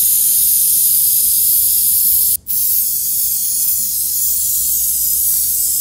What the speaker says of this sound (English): As we wait for the aerosol to flash off, the propellant